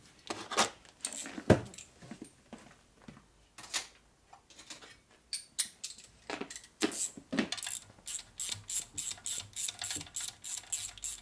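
A ratchet tightens the engine case drain plug on a 1965 Harley-Davidson Panhead 74ci FLH motor under rebuild. Scattered metallic clinks give way to a steady run of rapid, evenly spaced clicks, close up.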